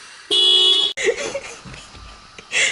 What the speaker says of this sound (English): I accidentally hit the alarm button on my car.